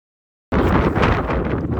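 Strong gusting wind buffets the microphone high on Snowdon along the Rhyd Ddu Path, a loud, continuous roar that starts abruptly and keeps surging with no voices.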